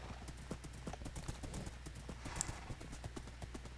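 A horse trots along in Minecraft, its hooves clip-clopping in a quick, even rhythm, clear and close over a low steady background hum.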